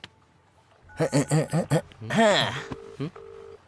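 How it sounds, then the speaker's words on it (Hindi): A telephone ringback tone: two short, steady electronic tones come after a burst of nearby talking, with a brief pause between them. "रिंग जा रही है"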